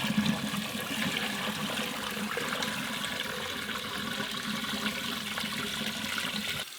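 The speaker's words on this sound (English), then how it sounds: "I'm just adding in some cold water now, just to soothe it a little bit." Cold water pours steadily into a cooking pot holding a giant ravioli, a continuous close rushing splash at low volume with no talking.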